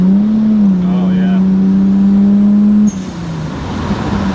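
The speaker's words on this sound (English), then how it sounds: "Give us a quick little downshift." A twin turbo Toyota Cresta from the mid to late 1980s, its engine holding a steady loud drone before dropping pitch on a quick downshift, exhaust note up close, with a brief spoken exclamation.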